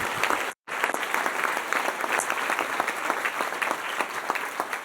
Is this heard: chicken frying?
no